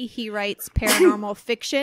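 A sudden, close sneeze bursts out in the middle of conversation, sharp and loud, with speaking voices on either side of it.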